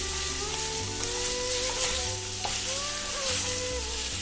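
Beef stir-fried with rice noodles in a hot wok makes a loud, roaring sizzle throughout, with a steady low hum and the scrape of tossing, close and continuous.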